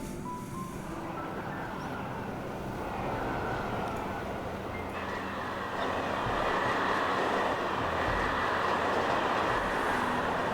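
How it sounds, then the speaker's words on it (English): A train in Transport Fever 2 rumbles steadily along the track in a continuous mechanical drone that grows a little louder and fuller midway, with no voices over it. "I want to have a look at this new train."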